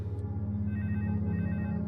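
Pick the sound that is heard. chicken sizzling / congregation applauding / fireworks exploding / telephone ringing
telephone ringing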